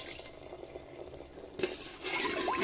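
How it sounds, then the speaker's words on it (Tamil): Water is poured into a bronze vengala paanai pot to cook rice upma, a brief splashing fill that grows louder and brighter toward the end, close by and with no talking. "ஸோ 5 டம்ளர் தண்ணி ஊற்றணும்"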